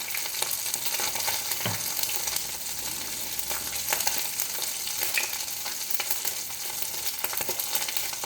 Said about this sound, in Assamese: এই মাছ ভজা তেলখিনি যে বাকী থাকিলে, ইয়াতে মই কেইটামান পাঁচফোৰণ দিম।